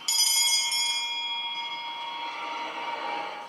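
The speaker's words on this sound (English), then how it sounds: "the ominous noise of the bell conjures feelings of danger" A single ominous bell strike from a Conjuring horror film rings out clearly and loudly, then its bright metallic tone lingers and slowly decays over several seconds, heard alone without talk.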